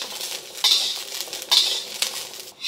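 Beans being stir-fried in a hot wok, with a few sharp metallic scrapes of a utensil against the pan over a faint sizzle, heard close up.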